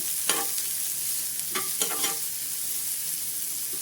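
Green chilies and kasuri methi stir-fry in a hot pan for mini samosa rolls, a soft continuous sizzle broken by a few sharp scraping stirs of the spatula.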